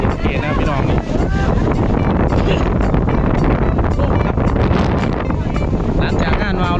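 Strong wind buffets a microphone outdoors in a forest area of a Thai district, a loud, continuous roaring rumble with gusty bursts throughout, and voices may sit underneath.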